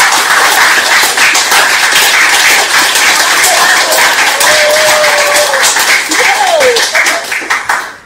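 Loud, dense applause from an audience at a Women's Day stage show, continuous clapping that holds strong before tapering off near the end, with a brief tonal whoop or whistle and scattered voices in the crowd.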